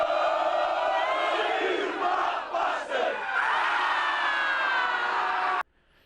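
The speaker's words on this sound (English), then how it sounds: "They haven't told her how rowdy the crowds can get." A rowdy animated crowd at a soccer match roars and cheers in a dense, loud wall of voices that swells and dips, then cuts off abruptly near the end.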